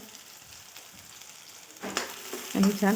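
Bean pods frying with red chilli powder, turmeric and masala in a pan, a soft sizzle that swells near the end as stirring picks up, with a voice speaking briefly.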